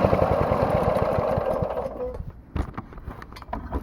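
A brush mower's small engine runs at a low, steady idle with a dense mechanical chug, close by, then drops off to a quieter putter with a few clunks near the end.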